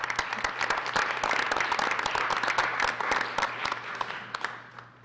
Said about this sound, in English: if we can give a round of applause to my staff at this time.